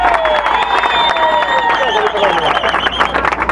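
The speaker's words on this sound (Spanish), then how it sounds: "para el cual pido un fuerte aplauso" A political rally crowd claps and cheers for a candidate, a steady mass of applause and shouts running under loud speech that continues over it.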